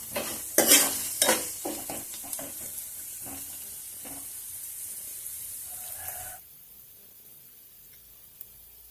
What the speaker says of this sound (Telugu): ఇలా పోపుల్లో వేసుకొని కాసేపు మనం వేయించుకొని నూనెలో